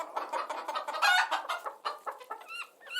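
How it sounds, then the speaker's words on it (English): Recorded chickens cluck in a busy, overlapping run with a few higher squawks near the end, played back as a stream redemption sound, clear and fairly loud with no talking. "It's just a minute of chicken noises."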